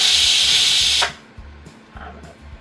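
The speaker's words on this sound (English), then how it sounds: "We are going to manual release the steam." Steam vented by manual release from a pressure cooker cooking pumpkin, a loud, dense hiss that cuts off sharply after about a second, followed by faint clicks and a low periodic hum.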